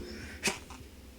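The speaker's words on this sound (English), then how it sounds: "sneeze" A single short sneeze bursts out once, mid-level and close, against a faint low background hum.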